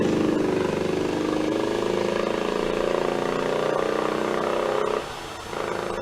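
A Formula Minor race car with a big thumping Velocette single-cylinder engine and gravity-fed carburetor runs at a hillclimb sprint, a loud steady drone that dips briefly near the end before picking back up.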